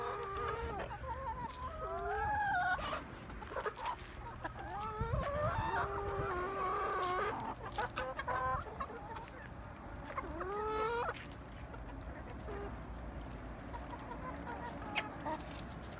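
Chickens and roosters in a coop cluck and call back and forth in repeated rising squawks. A rooster's drawn-out crowing calls stand out over a steady low hum.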